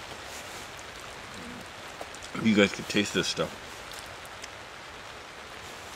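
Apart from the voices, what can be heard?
rain falling outdoors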